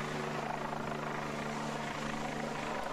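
A police helicopter hovers above stalled cable car gondolas during a mountain rescue drill in Willingen, making a steady, loud rotor drone with a throbbing engine hum that continues unbroken and has no talk over it.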